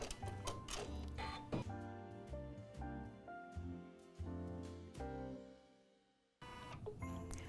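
An embroidery machine stitches down fringe on mini holiday trees, giving off quiet, rapid mechanical ticking and clatter. The rhythm shifts in bursts, with a brief pause before the stitching resumes.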